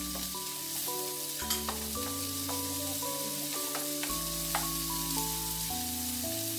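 Garlic and onion stir-fry in a wok, a close, steady sizzle with stirring scrapes and light crackles running without pause, no voices.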